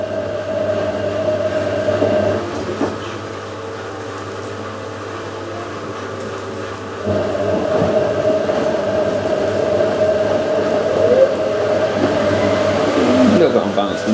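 Miele W562 and Hotpoint 9530 washing machines distributing the load before a 600 RPM spin on a cotton cycle, a loud steady motor hum and drum whir that shifts and surges about halfway through, continuous and close.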